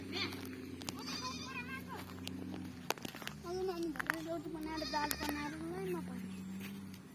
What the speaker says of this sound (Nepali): बाख्रा